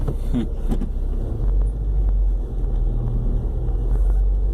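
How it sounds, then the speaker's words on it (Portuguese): Steady road traffic in late afternoon, with car engines rumbling continuously at close range and a heavy low-frequency drone throughout, no voices. "A gente está aqui no trânsito, todo vídeo do canal é trânsito."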